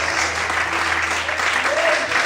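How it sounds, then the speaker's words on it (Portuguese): Worshippers at an evening church service applaud to the Lord, a full, sustained round of clapping from the congregation with faint voices mixed beneath it. "Levanta a mão e aplauda ao Senhor essa noite."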